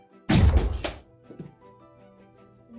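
Fortnite-style rocket launcher Nerf gun firing: one sharp, loud, close thunk followed by faint clatter.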